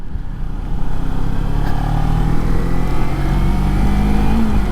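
A Kawasaki Ninja 300 motorcycle engine revs hard and close for nearly five seconds, a loud steady buzzing drone with a slight rise in pitch and no speech.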